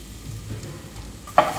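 Garlic sautéing in heated butter in a pan, a faint steady sizzle close by that ends in a single sharp clink of a utensil near the end.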